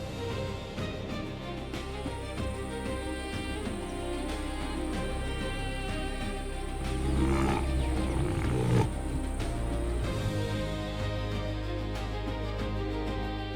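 A trapped lion lets out long, strained roars over a steady tonal backdrop, the deep rumbling calls swelling loudest midway through before settling back under the sustained drone.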